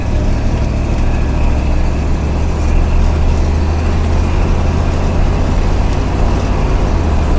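A 1977 Chevrolet Corvette C3 with a new transmission drives through a gear shift. Its engine gives a loud, close, steady low drone with no clear break at the change.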